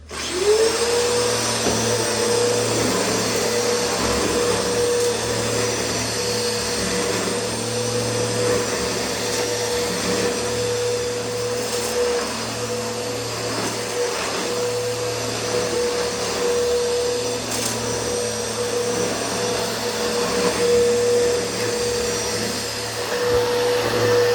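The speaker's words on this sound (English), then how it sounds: "Now let's run this dirty concrete floor." A Bissell PowerForce Helix 3313 upright vacuum cleaner runs steadily over a dirty concrete floor, a loud continuous motor whine with airflow hiss that starts abruptly and holds for the whole stretch.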